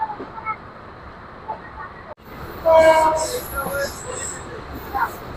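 Korotoa Express train pulling out of Tushbhandar station, a steady rail rumble with a brief horn-like tone partway through and faint voices nearby.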